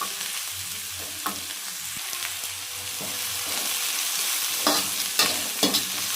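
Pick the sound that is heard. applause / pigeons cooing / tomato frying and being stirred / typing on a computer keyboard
tomato frying and being stirred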